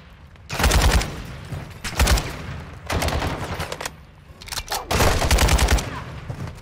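An AK rifle and machine guns fire in Modern Warfare 2 in four loud, close bursts of rapid automatic shots, with short quieter gaps between them.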